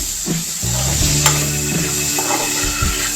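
Egg pasta with macaroni, salt and masalas sizzles steadily in a hot pan while it is stirred, with a continuous frying hiss and occasional soft scrapes of the spoon.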